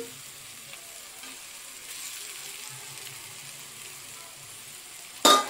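Fried ponnaganti leaf curry with eggs sizzles steadily and quietly in a pan for several seconds, and a short, sharp clatter from the stirring utensil comes near the end.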